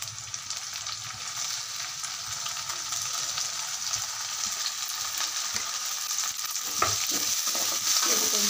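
Tomato frying in a pan as the base for a fish curry, a steady close sizzle with occasional scraping and stirring clatter throughout.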